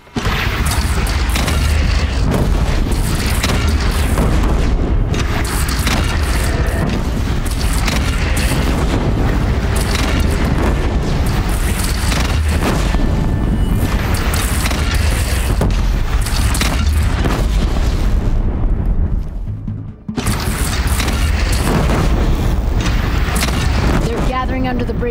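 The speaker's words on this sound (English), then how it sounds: "They only have one cannon!" A bandit cannon fires repeatedly in the video game Horizon Zero Dawn, heavy booms and blasts rolling through constant battle noise while characters shout and talk over the barrage.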